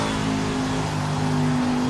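A car engine in a racing video game revs hard and steadily, a loud continuous droning roar with strong harmonics that fills the entire stretch.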